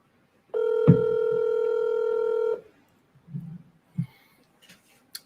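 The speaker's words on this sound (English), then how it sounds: "It seems like it's just going to continue ringing." One long, steady ringback tone sounds on a phone line during an unanswered commercial real estate cold call. A few faint soft knocks and rustles follow in the quiet afterward.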